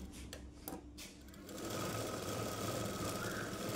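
A sewing machine stitches the dots on an umbrella dress. Light handling clicks come first, then a steady, close, whirring run of stitching to the end.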